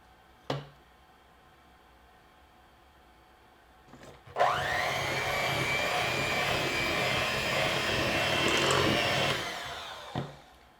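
An electric hand mixer beats monster cookie dough with peanut butter, starting with a click and whirring steadily for about six seconds before winding down, close and moderately loud.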